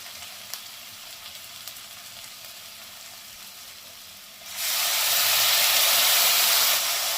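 Ground spices hit hot oil in a pan while frying masoor dal bora masala, the quiet background giving way after a few seconds to a loud, steady, continuous sizzle.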